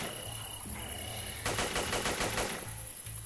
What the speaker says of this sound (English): So what, you got a machine gun here?